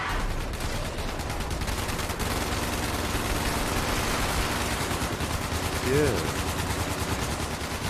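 Rapid gunfire in Fallout 76, a dense, steady barrage of shots running nearly the whole time with a brief louder burst near the end, while a player speaks briefly over it.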